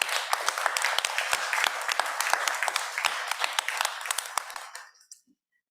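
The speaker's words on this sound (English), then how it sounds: "Can we give her a round of applause?" A room full of people at a town council meeting claps for a departing staff member, a dense, even burst of applause lasting several seconds before stopping abruptly into silence.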